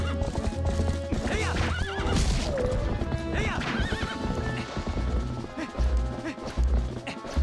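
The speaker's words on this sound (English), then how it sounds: "I'll just send Epona careening into that wall to get her face smashed in while I dive off" Epona, the horse in Zelda: Twilight Princess, whinnies repeatedly over steady clip-clopping hooves, with a crash as she slams into a wall and game music running underneath.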